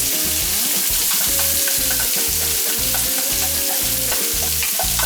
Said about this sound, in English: I'm going to add the onions in now. These are 2 onions chopped